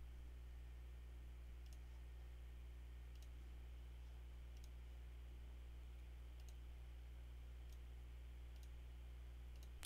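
Computer mouse clicks sound as faint, crisp single ticks, about five spaced irregularly over a quiet steady hum.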